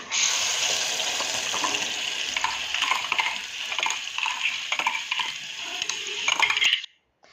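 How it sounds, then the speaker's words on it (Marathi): Steady, close sizzling of cumin seeds frying in hot oil with the gas turned off, with faint clinks and stirring scrapes, ending abruptly near the end. "गॅस बंद करून मी जिरं ची फोडणी दिलेली आहे"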